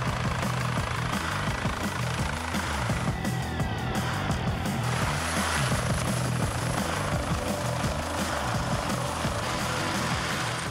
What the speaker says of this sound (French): l'hélicoptère arrive en quelques minutes